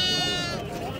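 A ram bleats loudly and close at a livestock market selling rams and sheep, one sustained wavering call amid the surrounding bustle.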